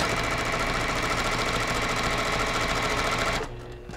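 A sewing machine stitching along the edge of a quilt binding runs at a steady, rapid whirring hum up close, then stops abruptly near the end.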